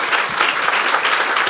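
A brief, steady burst of crowd applause rings out in a church during a Resurrection Day worship service, many hands clapping together at close, even volume.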